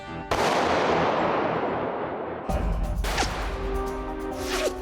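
A rifle fired from a level gun rest gives a single loud, sharp blast that rings out and decays over several seconds, followed by a second heavy crack or impact.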